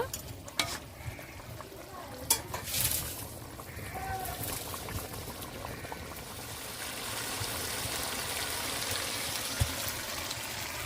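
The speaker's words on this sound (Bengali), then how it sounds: "তরকারিটা ভালো করে ফুটিয়ে নেব" Village-style curry of fresh river shele fish boils in a pot with a continuous bubbling sizzle, punctuated by a few spoon knocks and stirring sounds early on.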